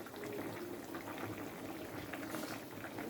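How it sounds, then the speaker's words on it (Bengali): Fish curry (jhol) with potato, flat beans and tomato simmers in a covered pot, giving a faint, steady bubbling hiss that carries on without a break and without any voices. "বন্ধুরা, ঝোল ফুটে উঠেছে।"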